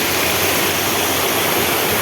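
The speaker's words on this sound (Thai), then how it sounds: "ด้านหน้าก็เป็นน้ำตกนี่เป็นน้ำตกธรรมชาติเลยเนี่ย" Natural waterfall on the grounds of a Thai hillside temple in Uthai Thani, pouring as a steady, loud broadband rush of water that fills the whole stretch without pause.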